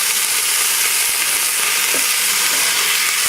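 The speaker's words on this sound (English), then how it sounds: "So the searing of the meat" Beef searing in a very hot skillet with a little oil, a steady broadband frying sizzle filling the whole stretch at close range, continuous and fairly loud with no talking.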